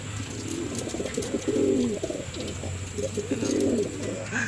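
Racing pigeons coo at their loft in repeated low, rolling phrases, close and clear over a steady background hum, with a brief higher chirp at the end.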